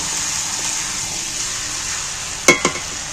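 Chicken curry with ginger paste and spices sizzling steadily in a hot pan, a loud continuous fry hiss with two short sharp clinks of a spoon against the pan near the end.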